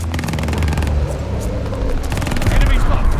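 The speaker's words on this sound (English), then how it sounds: "Friendly bombing run inbound." Bombing run in Call of Duty Vanguard on the Gavutu map during a team deathmatch: loud, dense bursts of rapid gunfire and deep booms crowd the mix, with a game voice speaking over them.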